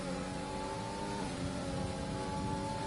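F1 race car engine in the F1 2020 video game at Sakhir, a steady, loud, high-revving whine with a sustained tonal drone that shifts pitch slightly partway through, running continuously throughout.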